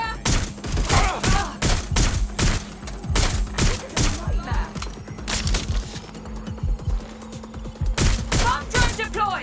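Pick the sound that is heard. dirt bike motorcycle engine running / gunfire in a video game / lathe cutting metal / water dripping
gunfire in a video game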